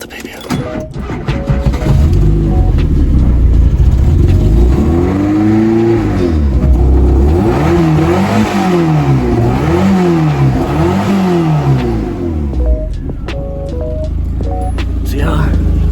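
A Volkswagen Golf Mk1 engine cranks and catches, then revs up and down repeatedly in rising and falling sweeps before settling into an idle, loud and close.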